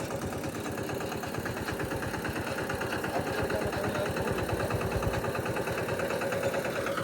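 A farm tractor engine running steadily nearby, a continuous rhythmic low chugging with mechanical rattle, loud and unbroken with no talk.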